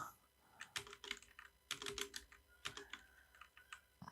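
Quiet, close computer keyboard typing as Python code is entered, irregular clusters of sharp key clicks with short pauses between them.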